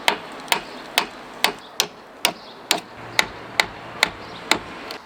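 uPVC soffit board being hammered into place during a loft conversion fascia and soffit install, about a dozen evenly spaced sharp knocks at a steady pace, fairly close, with no talking.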